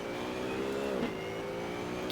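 A race car in the Assetto Corsa video game roars continuously at high revs, its engine pitch dipping briefly as it shifts and then climbing again, loud and up front with no voice over it.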